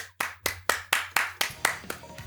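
Roughly eight sharp hand claps in a steady rhythm, close and fairly quiet, with no voices.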